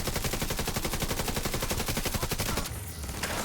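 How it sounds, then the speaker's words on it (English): Rapid sustained automatic fire from an assault rifle in The Division 2, a dense fast rhythm of loud close shots that breaks off briefly near the end before picking up again. "this assault rifle just melts on this build"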